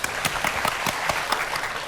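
Scattered applause from a small audience on a Vietnamese lunch-date show: a few loose, uneven claps, fairly light and spaced, with no talking over them.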